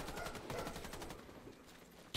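Gunfire in the video game Warface, a rapid burst of automatic shots crackling fast for about two seconds, fairly faint and alone.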